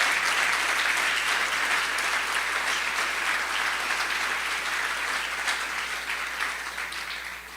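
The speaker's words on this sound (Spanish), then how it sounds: "Denle un aplauso a nuestro Rey por la vida de él" Congregation at a Sunday church gathering clapping together, a full wash of applause that holds steady and then begins to thin toward the end, with no voices over it.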